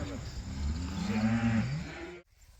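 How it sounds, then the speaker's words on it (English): Beef cows on a farm bellowing for calves separated and penned for the vet, one long, deep, drawn-out moo that swells and then cuts off, loud and close. "Cows are all sitting over there bellering because we got their babies waiting around."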